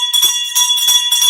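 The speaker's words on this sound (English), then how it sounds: "We're ringing the bell." A bell rings repeatedly in short, bright bursts with a sustained ringing tone running between them, loud and close, with no one talking over it.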